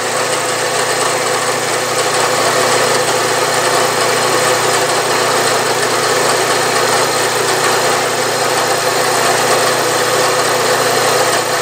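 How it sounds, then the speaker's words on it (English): Metalworking machine tool taking a light cut on automatic power feed while making parts for a horizontal steam engine, a loud, constant motor drone and hum with no speech. "I'm uh, feeding down automatically and when this hits the blue stop the power feed will kick off"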